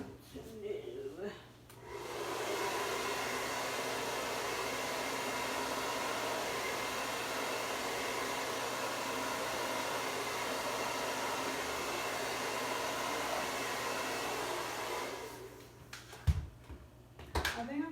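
Hair dryer blowing on wet paint at a paint night, a loud steady whoosh running about thirteen seconds close by, with brief talk just before it starts and after it stops.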